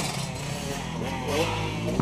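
A motocross bike runs with a Chinese carburetor fitted with Keyin parts, its engine holding a steady, near idle under people talking, with a slight rise in revs partway through.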